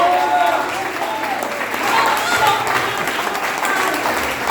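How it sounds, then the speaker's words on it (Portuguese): Congregation applauding inside a church during an evening worship service, a dense, steady wash of clapping from many hands throughout, with faint voices mixed in beneath. "Aplauda o nosso Deus por essa palavra."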